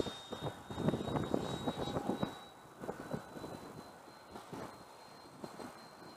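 A Freewing F-22 90 mm electric ducted-fan RC model jet flies on a windy day, producing a steady whining turbine-like rush that swells loudest early, then fades and recedes into a thinner drone in the distance, with gusty wind noise.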